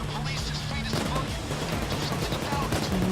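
PAYDAY 2 heist gameplay with rapid gunfire cracks and sniper shots crackling over dense in-game noise, loud and continuous while a player talks over it.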